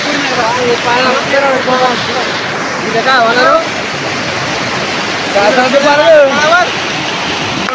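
Water rushing over from a burst storage lake after heavy rain, a loud, constant roaring wash heard up close, with people talking over it throughout.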